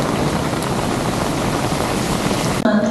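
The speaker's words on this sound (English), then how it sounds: "This is the rain that's been predicted for a couple days, and here we are, all surviving this downpour." Heavy rain pours down in Kyoto, a loud, dense and unbroken hiss of falling water that cuts off abruptly near the end.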